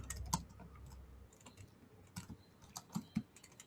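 Typing on a computer keyboard, heard as faint, sparse key clicks in small irregular clusters with gaps between them, close but quiet against a low background hum.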